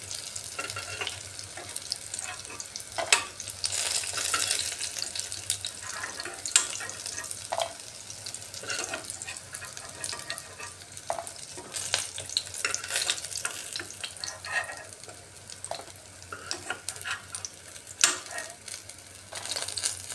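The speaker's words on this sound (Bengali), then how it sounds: "পকোড়াগুলো খুব সুন্দরভাবে ভাজা হয়ে গেছে।" Fish pakoras sizzle and crackle steadily in hot oil, with occasional scrapes and clinks of a utensil turning and lifting them, a continuous close frying hiss with no talking.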